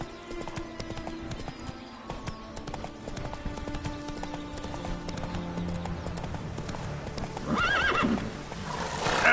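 Roach, the horse in The Witcher 3, trots with steady clip-clop hooves over ambient game sounds and music, then gives a loud neigh near the end.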